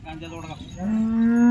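A bull at a Patoda cattle market gives a single deep, drawn-out moo. It sounds loud and close, swelling as it goes on, with faint crowd murmur beneath.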